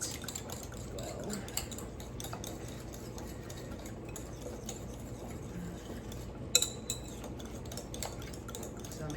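A spoon stirs a lumpy dessert mixture in a bowl, a soft, continuous scraping with light clinks of metal against the dish, close and fairly quiet throughout, with one sharper clink partway through.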